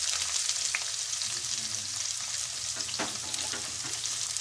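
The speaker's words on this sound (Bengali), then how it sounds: "এবার আমি পেঁয়াজ কুচিগুলো দিয়ে দেব। পেঁয়াজ কুচিগুলো দিয়ে একটু নেড়ে নেব ভালো করে।" Chopped onions frying in a pan give a steady, close sizzle, with a few soft scrapes from stirring and no voices.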